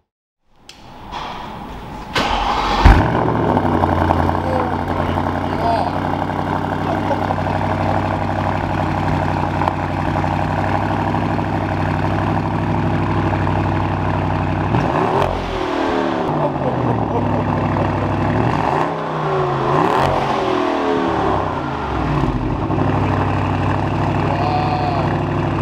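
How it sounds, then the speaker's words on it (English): A Bentley fitted with a Miltech exhaust starts up and settles into a loud, steady idle with a deep rumble, then gives a few short revs that rise and fall around the middle and later part. "It's got the Miltech exhaust, as you guys will hear."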